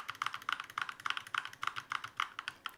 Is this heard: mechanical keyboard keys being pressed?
yes